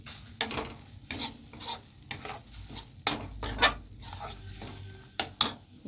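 Spatula stirring taro leaves (kochu shak) in a hot pan, intermittent scraping strokes over a soft sizzle, close and fairly quiet.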